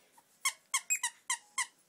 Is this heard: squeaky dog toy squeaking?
yes